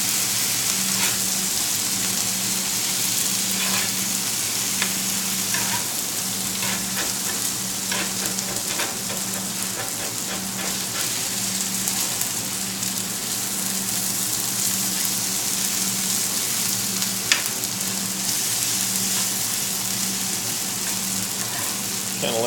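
Breakfast food sizzles and fries steadily in olive oil on a griddle set to 350 degrees, a continuous crackling hiss with a low hum underneath, close and even throughout with no talking.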